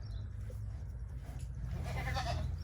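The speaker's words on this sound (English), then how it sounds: "This is my goat." A goat on a backyard family farm bleats faintly once or twice over a constant low rumble, with a brief brighter cry near the end and no voices.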